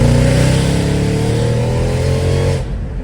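Mercedes E55 AMG engine floored in second gear, a loud, close, sustained full-throttle roar with rising harmonics that cuts off sharply near the end.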